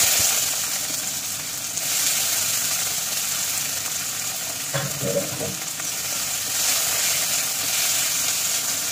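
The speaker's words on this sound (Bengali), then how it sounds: "পেঁয়াজটা ভাজা হয়ে গেছে" Onions frying in oil with whole cumin and bay leaf give a steady, moderately loud sizzle throughout, with a brief burst of stirring or clatter about midway.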